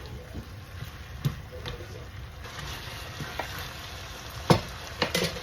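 Mushrooms frying in a pan for a creamy Alfredo pasta with pesto: a low, soft sizzle with a few louder stirring clatters near the end.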